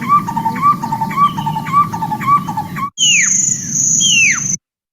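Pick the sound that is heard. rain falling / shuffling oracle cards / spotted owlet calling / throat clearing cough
spotted owlet calling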